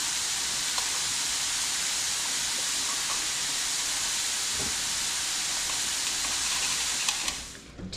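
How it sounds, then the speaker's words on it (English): Jalapenos, vegetables and garlic sauté in a pan for tomato spaghetti sauce, giving a loud, steady, broad sizzle and hiss that runs unbroken for several seconds before fading near the end. "we're gonna add all of that in and saute this for just a couple of minutes."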